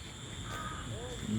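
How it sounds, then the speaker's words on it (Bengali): A crow caws faintly in the countryside among rows of coconut palms on a misty afternoon, a short call over steady background hum, with a voice talking briefly near the end. "পাখির ডাক"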